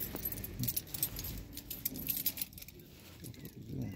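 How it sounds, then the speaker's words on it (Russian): Keys to a 2017 Dodge Journey jangle close up in a hand, a continuous bright metallic rattling with a few sharper clinks, loud and alone. "А, можно ключ ее?"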